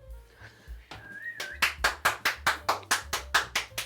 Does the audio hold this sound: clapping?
yes